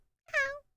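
A person imitates a cat with a single drawn-out, nasal meow, close and fairly loud, with silence before and after.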